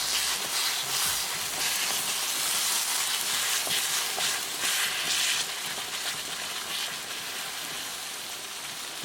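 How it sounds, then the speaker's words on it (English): Roasted eggplant being mashed and cooked for baingan bharta in a pan: a steady sizzling hiss of frying throughout, with faint soft scraping underneath. "now we can mash it"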